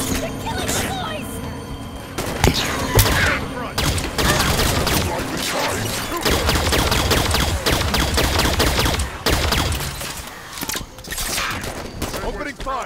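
Dense rapid gunfire and bursts of automatic weapons fill a Halo 5: Guardians battle, loud and continuous, with voices calling out over the shooting.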